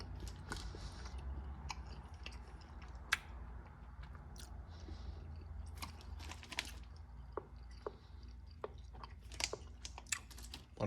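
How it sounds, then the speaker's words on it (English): Someone chews peppermint gum from a combat ration pack, with soft, irregular close-up jaw clicks and moist crunches over a quiet, steady room hum. "I'll try not to chew too much because I know you can hear my jaw."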